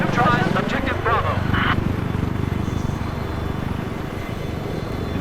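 An attack helicopter flies over the Giant of Karelia map in Battlefield 4, a loud, steady rotor-and-engine roar that lasts throughout and stays close and dominant.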